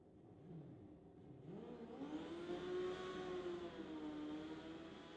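A Suzuki drag racing motorcycle does its burnout at an NHRA Summit ET race, heard as a distant, fairly faint engine revving up and then holding a high, sustained whine over crowd and track ambience.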